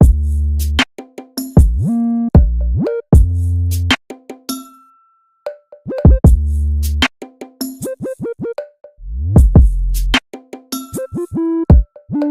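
Deep 808 bass notes glide and bend in pitch, sliding up and down between punchy hits in a loud, rhythmic beat pattern made in FL Studio.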